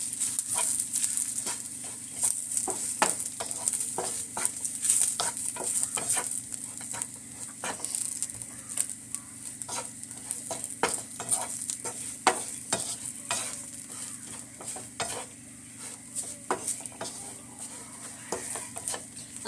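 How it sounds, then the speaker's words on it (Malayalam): Kashmiri chilli powder being stirred into frying country rooster curry, a continuous close sizzle with frequent spoon scrapes and knocks against the pot, no voices. "ഒരു ഒന്നര സ്പൂണ് നമ്മുടെ കാശ്മീരി മുളക് പൊടിയാണ് നമുക്കൊന്ന് ഇളക്കി കൊടുത്തിട്ട്"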